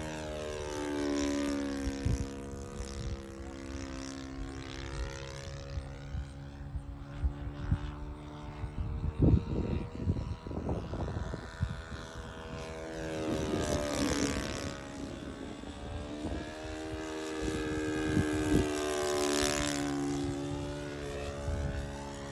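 A radio-controlled Bucker Jungmann biplane flying overhead, its propeller engine droning steadily and swelling louder and fainter as it passes and turns, with a sustained buzzing whine throughout.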